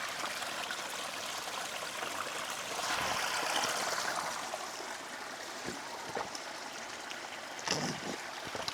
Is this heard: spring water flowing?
yes